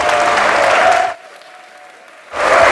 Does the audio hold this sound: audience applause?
yes